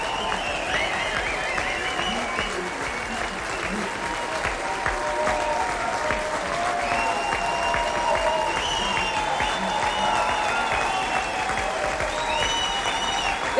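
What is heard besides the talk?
loud applause welcoming Joschka Fischer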